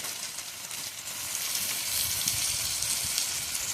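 Ground turmeric and spices hitting hot oil in a pan while cooking pulao and aloo dum, a steady bright sizzle and crackle, close and continuous, without talk.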